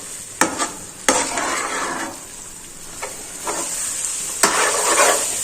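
Kalakand milk sweet mixture with ghee cooking in a pan, soft sizzling under repeated stirring strokes, with a few sharp spoon knocks against the pan and a faint steady hiss throughout.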